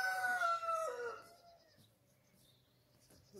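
Backyard village chickens: a loud rooster crow opens, then it fades to quiet, sparse clucking and soft rustling in the coop.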